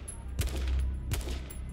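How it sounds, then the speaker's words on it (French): An AK rifle in the game H1Z1 fires single shots: two distinct booming reports about three quarters of a second apart, then a fainter third, at moderate level. "Pour ce qui est de l'AK, si tu tires balle par balle"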